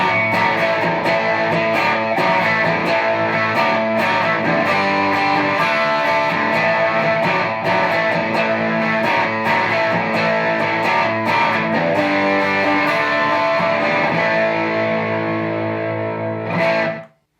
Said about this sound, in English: let's check out how the pedal sounds with the almighty Telecaster